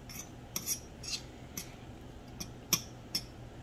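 Scrambled salmon eggs being fluffed in a cooled-down pan, giving soft, sparse scraping and clicking taps of a utensil against the pan, each brief and close, spaced irregularly over a quiet background.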